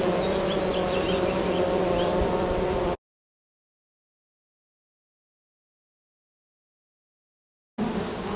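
Honey bees buzzing densely around an open beehive box in Hawaii, a steady close drone interrupted by a long stretch of silence before resuming.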